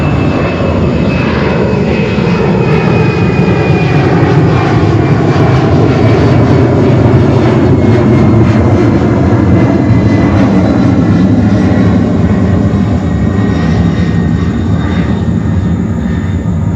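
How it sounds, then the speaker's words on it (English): A Delta Boeing 767-300 jet airliner at JFK Airport roars loudly and continuously, its engine tone slowly sliding downward as it passes, with no talk. "Delta 767-300 to San Francisco, California."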